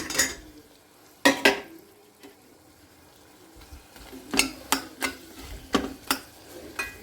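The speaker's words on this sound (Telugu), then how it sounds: "ఇక ఇప్పుడు మునక్కాడలు వేసుకుందాం." Pieces of drumstick dropped into a hot pan of frying green chili, onion and ginger-garlic paste, giving a sharp clatter and then several scattered sizzling bursts and stirring knocks, close and fairly loud with no talking.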